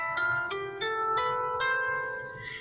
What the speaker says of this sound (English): So the strings of the harp are like the white keys of the piano and sound like this.